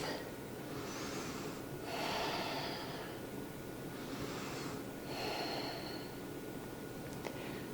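Slow, deep breaths during a yoga session, several long airy inhales and exhales rising and falling over a steady background hiss, close and fairly soft.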